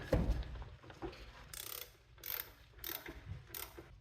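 A ratchet with a socket tightens valve cover bolts on a 2004 Honda Accord, with several short bursts of quick metallic clicking, close and fairly quiet, and no talk.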